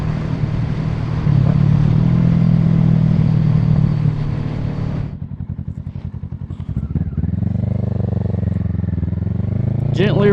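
A motorcycle engine drones steadily while the rider downshifts, then the revs drop sharply partway through and the engine climbs again as the clutch is eased out, with a voice talking over it.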